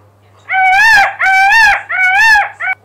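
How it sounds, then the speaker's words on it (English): Three loud, wailing peacock calls in quick succession, each a rising-falling cry, followed by a short final note. "Peacock."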